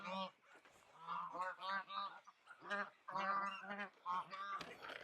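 Geese on a homestead honk in rapid overlapping bursts, loud and close, calling continuously with only brief pauses.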